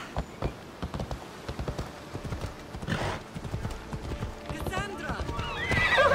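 A horse clip-clops at a steady walking rhythm, close and clear, with a neigh and light rain mixed in while people talk nearby.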